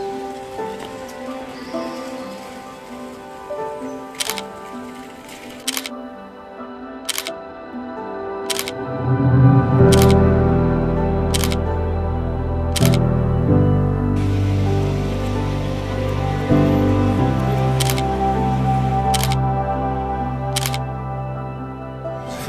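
Camera shutter clicks from a camera fitted with a new lens, about a dozen sharp, evenly spaced snaps spread over the stretch, heard over steady rain-like outdoor noise that swells midway.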